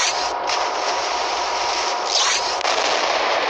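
Warship guns fire during a naval battle in a World of Warships-style game while the ship takes hits, a continuous loud roar of gunfire and impacts that stays dense throughout.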